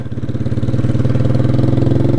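A Honda CG Fan motorcycle engine idles steadily at close range, a low throbbing rumble with a regular pulse that holds even throughout.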